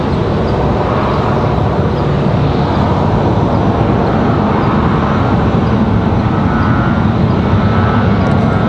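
An American Airlines Boeing 737-8 jet roars past at an airport, a loud, broad and steady engine rush that holds at close range with a faint hum of ground traffic beneath.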